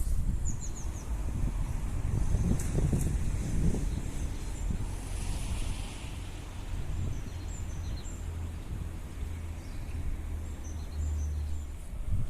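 Steady roaring storm wind in Germany buffets the microphone throughout, a continuous low rumble with gusts, and faint bird chirps high above it.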